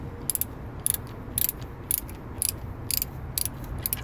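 A ratchet loosens an AC compressor bracket bolt on a 1979 Chevy C10, giving quick bursts of crisp metallic clicks repeated in an even rhythm, close up and with no talking.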